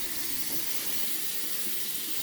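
Water runs steadily into a building drain system being filled for a hydrostatic leak test, a continuous close rushing hiss like an open tap with no talk over it.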